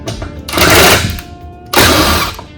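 Screws come out of a 4th Gen Toyota 4Runner's roof area under a power driver with a T25 bit, giving two loud, close whirring bursts separated by a short pause.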